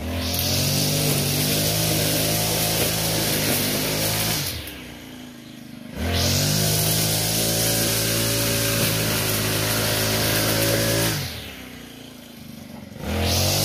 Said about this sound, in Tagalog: dito siya nauna sa pag-grass cutter mga kaibigan